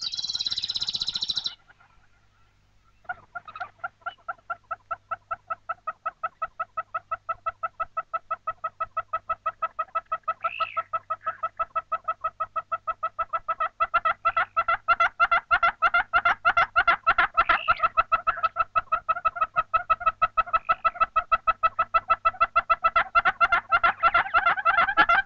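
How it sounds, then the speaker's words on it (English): A male yellow-billed hornbill perched in a mopane tree in the bushveld gives its mating call: a long, loud, close series of clucking notes that speeds up and intensifies, with a brief high tone just before it. "The yellow-billed hornbill's mating call."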